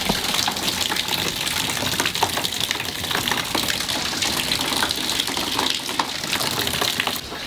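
Heavy rainwater pours and splashes from a roof under repair in a continuous, dense, steady gush, loud and close, with no voices.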